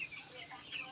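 Twelve-day-old farm chickens peep and chirp faintly while feeding, a few brief high calls over quiet background.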